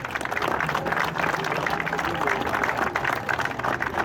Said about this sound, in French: je veux qu'on les applaudisse aussi